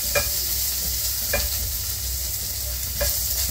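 Ginger and garlic sauté in a hot pan for cuttlefish adobo, a steady close sizzle with three brief scraping stirs of a utensil against the pan.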